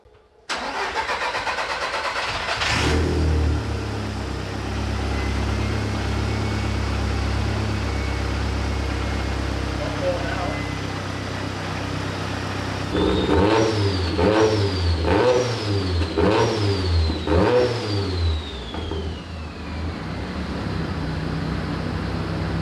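A car engine with a fresh set of spark plugs fires up and settles into a steady four-cylinder idle, then is blipped through several sharp revs that rise and fall, loud and close.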